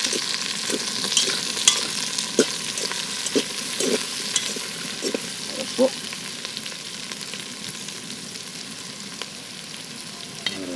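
Potatoes frying in a pan outdoors on a riverbank, a loud, dense sizzle with frequent scraping stirs and clatters close by, steady throughout with no talk.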